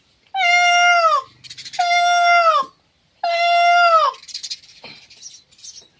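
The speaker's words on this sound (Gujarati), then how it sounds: "આ ભાખડીના મોરલા બોલ્યા છે" Peacocks give three loud, close, drawn-out wailing calls, each separated by short gaps, followed by fainter bird chatter and rustling.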